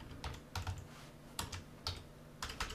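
Quiet close typing on a computer keyboard while coding, several short bursts of clicking keys separated by brief pauses, with no voices.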